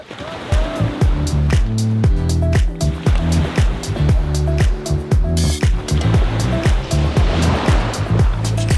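Ocean surf breaks loudly at a beach on Boracay Island in the Philippines, a dense, steady wash of water with strong rhythmic pulsing running under it throughout.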